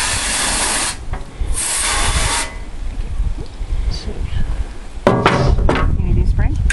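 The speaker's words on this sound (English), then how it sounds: "Spray the tray" Spray bottle misting a tray during chicken butchering, two long hissing bursts near the start followed by clattering handling sounds, with voices talking over the background.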